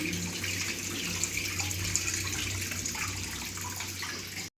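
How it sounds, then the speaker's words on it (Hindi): Drinking water runs from a tap into a container, a steady close rushing stream that continues evenly and then cuts off abruptly at the end. "पानी मेरा भर गया है, मैं ये भर लूँ"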